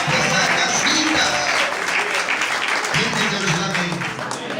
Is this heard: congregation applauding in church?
yes